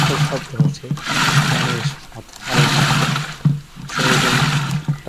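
Buttermilk (ghol) churned in a traditional way by pulling a churn rope back and forth, making loud rhythmic swishing, sloshing surges that rise and fall about every second, close and with no talk.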